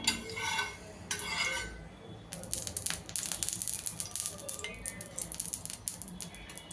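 A ladle scraping and rattling as it spreads oil over a hot griddle for dahi toast, quick metallic scrapes and clinks close by, rhythmic and busy after a brief pause.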